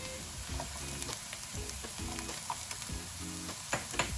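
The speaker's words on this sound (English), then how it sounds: "after cooking the onions for around 2-3 minutes, they are translucent, and this is the time when I'm going to add some chopped green chilies" Onions and chopped green chilies fry in a pan with a steady soft sizzle, while intermittent stirring clinks and scrapes sound over it.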